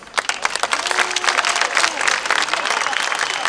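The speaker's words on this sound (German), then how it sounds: "Dein Applaus, dein Applaus." Applause from an audience at a BSW party event in Potsdam, dense steady clapping throughout with faint voices and some tonal sounds mixed in.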